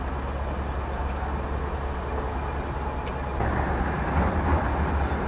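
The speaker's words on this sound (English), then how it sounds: "Finally in Amsterdam. This is the train station." Ambience inside the train station in Amsterdam: a steady, loud low rumble and broadband hum that swells slightly partway through, with faint distant clanks and no clear talking.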